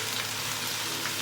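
Shiitake, dried shrimp and dried scallops frying in a wok, a steady soft crackling sizzle throughout with no distinct stirring strokes, quiet and close.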